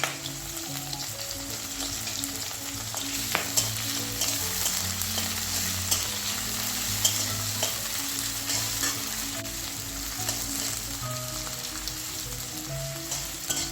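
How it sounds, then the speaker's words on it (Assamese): Onions and green chilies sizzle steadily in hot oil, a close, continuous crackling fry with occasional stirring clinks and no talking. "তেলখিনি গৰম হোৱাত মই পিঁয়াজ, কেঁচা জলকীয়া এইখিনি দিলোঁ।"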